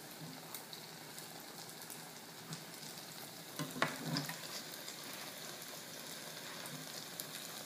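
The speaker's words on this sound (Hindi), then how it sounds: "लास्ट हम इसे इसी तरह ब्रेड क्रम्स में डिप करेंगे और इसको भी हम फ्राई कर लेंगे।" Breadcrumb-coated potato cutlets (aloo tikki) fry in oil with a soft, steady sizzle and faint crackles, a brief burst of stirring or shifting near the middle, otherwise even and fairly quiet with no talking.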